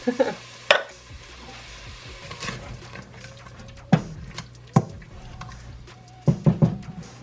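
Turkey chili being dumped into a pot and stirred in, with sizzling and sharp scraping clanks of a spoon against the pot repeating at irregular intervals, close by.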